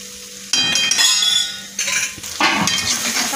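Anda bhurji stirred and sautéed in a pan, with a spoon clinking and scraping against the metal in bursts over a hissing sizzle, loud and close, no talking.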